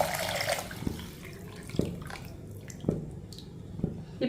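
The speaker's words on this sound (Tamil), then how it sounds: "பீட்ரூட் கேரட்டு ஜூஸை தூக்கி அதில் ஊற்றிடுவோம்" Beetroot and carrot juice is poured into a pot of weight-loss soup, giving a soft liquid splash and trickle at the start, then faint drips and light knocks in a quiet kitchen.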